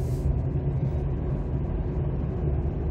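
A car drives slowly through a calm downtown, heard from inside as a steady low engine and road rumble that stays even and close throughout, with no talking.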